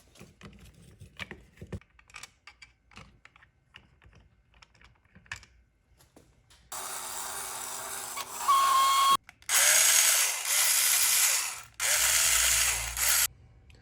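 An old powered screwdriver, just reassembled, is heard first through quiet handling clicks and taps. It then whirs into motion in three loud, close bursts separated by brief pauses.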